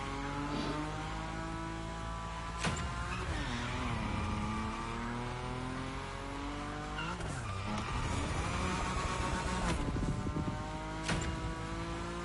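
A Nissan Nismo racing car in the game Motorfest drives at high speed, its engine droning with steady rising and falling pitch while the tires squeal through long slides, loud and continuous with no talk.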